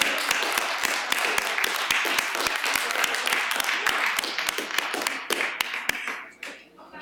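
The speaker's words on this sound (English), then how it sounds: "let's give our crossing guards another round of applause" Meeting-room audience at a city Board of Education session applauding crossing guards, a dense run of hand claps with sharp individual smacks standing out, continuing for several seconds before fading out.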